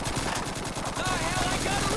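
Rapid automatic and rifle gunfire in Call of Duty 2 during a World War II US campaign retreat: dense, loud overlapping bursts of shots in quick succession, with sharp reports layered over a constant battle roar.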